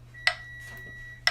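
Two crisp metronome clicks spaced exactly one second apart, sharp and isolated over a faint low hum.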